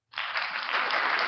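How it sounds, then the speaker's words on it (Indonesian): Applause for a speaker breaks out suddenly after a brief silence, a dense, steady wash of clapping that holds at full loudness to the end. "Saya mengasih aplaus buat beliau nih"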